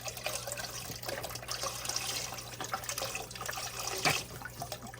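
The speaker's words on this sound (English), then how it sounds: "now that I've added the broth in" Broth pours steadily into a soup pot as a continuous liquid splash, fairly close and moderately loud, with no voice over it.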